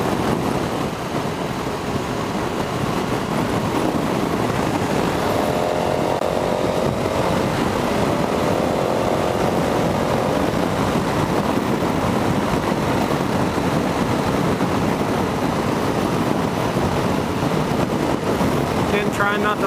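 A 2017 KTM 1290 Super Adventure R motorcycle engine runs while riding, a continuous loud roar blended with heavy wind rush on the microphone that barely changes over the whole stretch.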